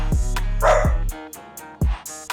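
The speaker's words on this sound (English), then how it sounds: "As my dog barks in the background" A dog barks a few times in the background, sharp separate yelps spaced over the moment, with game audio and faint tones running underneath.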